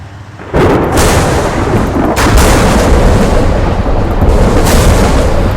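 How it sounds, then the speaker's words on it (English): Lightning strikes called down in a military video game, a loud continuous rumbling crackle with sharp thunderous bursts layered over heavy sustained noise. "I'm going to have to ZEUS lightning these out."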